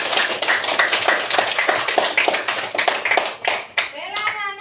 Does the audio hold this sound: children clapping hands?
yes